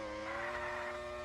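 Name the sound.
F1 race car engine in Ultimate Racing 2D video game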